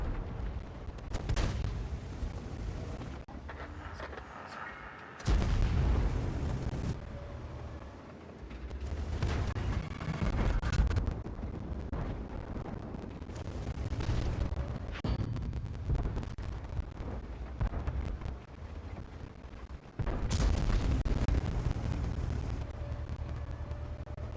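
Heavy tank destroyer cannon shots in World of Tanks, a series of loud booming blasts at about 5, 20 and several other points, each followed by rumbling decay over continuous low battle noise, with no talking.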